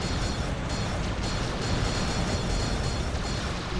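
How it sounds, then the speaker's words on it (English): Napalm weapon fire roars in Descent 3, a dense, continuous burst of flame and explosive rumble that fills every moment at steady, loud intensity with no voices. "Oh, somebody else is in here with napalm."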